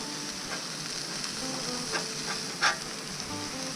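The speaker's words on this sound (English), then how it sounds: "you're going to scrape down at about a 45-degree angle" A smashburger patty scraped off a Blackstone griddle with a spatula, a close steady sizzle with a few short scraping strokes and one sharper clink near the end.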